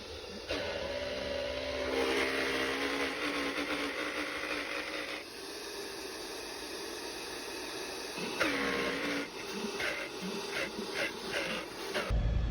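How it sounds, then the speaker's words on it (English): Portable blender whirring inside a van while making a cold drink, a loud steady motor drone lasting several seconds with a brief dip in the middle before spinning up again, heard alone with no voices. "take out my blender, and make something nice and cool and refreshing"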